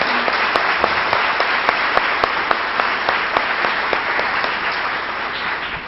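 An audience at a spiritist gathering, the 45th Semana Espírita in Vitória da Conquista, breaks into sustained, even applause. Dense clapping is punctuated by a few sharper individual claps standing out from the crowd.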